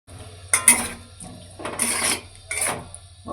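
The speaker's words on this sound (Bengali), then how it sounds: "মশলার সঙ্গে কষিয়ে নিচ্ছি।" Potatoes and spices being stirred and sautéed in a pan for a fish curry, with several separate bursts of spatula scraping and sizzle, close and fairly quiet, and no talk.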